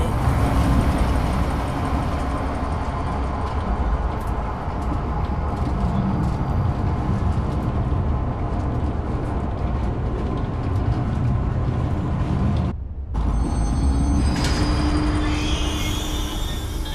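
A rumbling zoo train in the video game Zoochosis runs steadily and loudly for a long stretch, with clattering and mechanical whine, briefly cutting out before resuming; no one speaks.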